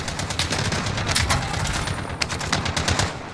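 Rapid automatic gunfire from the video game Iron Trials '84, a dense sustained burst of overlapping shots with distant booms, loud and continuous throughout with no talk.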